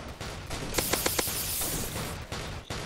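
Gunfire at zombies in the Roblox Zombie Attack video game: a quick cluster of four sharp shots over a busy, noisy game background with continuous clutter.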